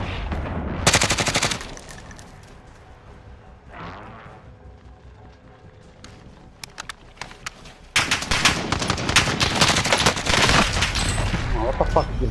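Bursts of automatic gunfire from the Grau assault rifle in Call of Duty: Modern Warfare, a loud rapid volley at the start, then a quieter stretch with scattered shots, then sustained heavy rattling fire to the end.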